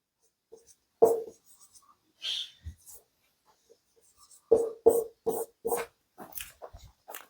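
A pen scratching on paper while a math proof is written out, in irregular short strokes and clusters separated by quiet pauses, close and fairly soft.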